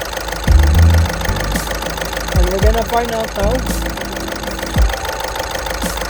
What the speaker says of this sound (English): This is Volkswagen. This is diesel engine,